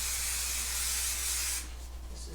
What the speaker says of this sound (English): So I'm just gonna spray this in.